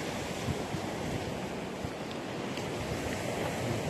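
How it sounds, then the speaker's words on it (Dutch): Sea waves wash onto a beach at night near a rocky shore by the coast, a steady broad hiss of surf mixed with wind noise, continuous and fairly loud with no voices. "Nou moeten jullie het toch horen dat we aan de zee zijn."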